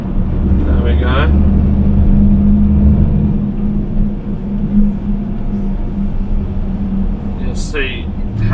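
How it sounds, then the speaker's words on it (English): A European cabover tipper truck's engine drones loudly and steadily as it strains along a UK road, a constant low rumble inside the cab. "This engine is trying its absolute utmost."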